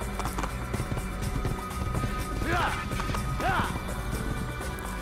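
Hooves gallop in a quick, steady rhythm under someone talking in the video game Assassin's Creed, with a couple of bright swooping game tones and occasional thuds mixed in.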